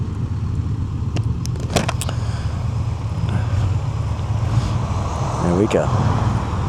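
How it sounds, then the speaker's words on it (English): Road traffic passes steadily while riding a motorbike outdoors, a continuous low rumble with wind buffeting the microphone and a vehicle rising in pitch near the end; someone speaks briefly over it. "Traffic."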